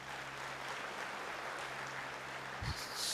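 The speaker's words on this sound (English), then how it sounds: "Please give her a big round of applause" An audience claps for a singer at a spiritual community event, a steady soft wash of applause held at moderate distance throughout, swelling slightly toward the end.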